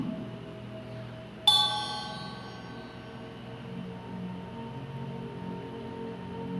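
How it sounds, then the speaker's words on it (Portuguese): A single bell strikes once during a guided meditation, a clear bright ring with shimmering overtones that fades slowly over several seconds against a quiet, low background hum. "você ouve um sino."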